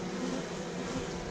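Honey bees buzz steadily at an open hive during a swarm inspection, a dense, even drone that holds close and constant throughout with no talk over it.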